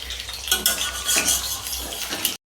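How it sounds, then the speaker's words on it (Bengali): Hot oil sizzles steadily while a utensil clatters and scrapes against the pan, turning frying pakoras; no voices. "এবার এটাকে হচ্ছে উল্টে পাল্টে পুরো একদম লাল লাল করে ভেজে নিতে হবে।"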